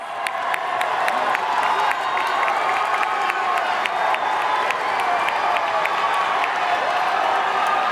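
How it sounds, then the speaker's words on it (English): Pageant audience at a Miss Universe preliminary evening gown competition applauds and cheers for the contestants, a steady loud crowd roar with scattered whoops and claps lasting throughout. "Let's give those contestants one more loud round of applause"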